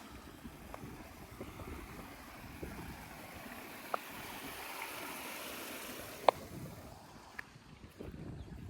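Strong water rushes steadily and loudly throughout in a farm field in Mindoro, a continuous roar with a few sharp clicks standing out.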